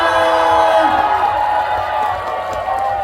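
A festival crowd at the Sunchang Jang (fermented sauce) Festival opening ceremony, with fans of Kim Hee Jae's fan club, cheers and applauds as a steady, loud wash of noise, with voices rising over it.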